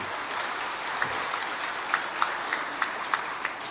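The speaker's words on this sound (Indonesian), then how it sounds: "Tepuk tangan untuk beliau." An audience claps at a formal ceremonial speech, a dense steady patter of many hands with a few sharper individual claps standing out, fairly distant and sustained without voices.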